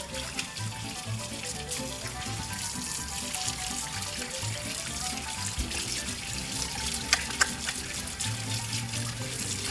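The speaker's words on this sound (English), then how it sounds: "it's really important that we wash our hands for 20 seconds." Tap water runs steadily into a sink as hands are washed, a continuous moderate splashing stream lasting the whole stretch with a few brief clinks near the end.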